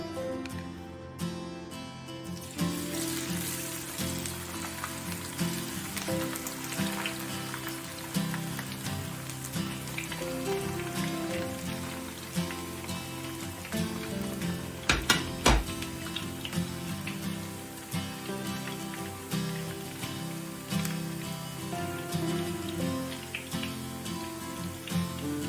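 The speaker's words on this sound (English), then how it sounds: "As soon as the oil gets hot enough, put your potato skins in and start frying them." Potato skins fry in hot oil in a frying pan, a steady dense crackle and hiss that holds throughout, with one sharper pop partway through.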